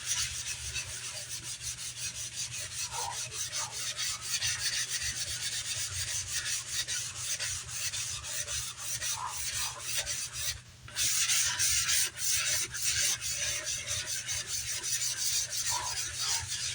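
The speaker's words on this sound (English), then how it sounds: "but I am going to scrub" A rusty bathtub is scrubbed with steady, rapid back-and-forth rasping strokes, close and continuous, with one brief pause midway.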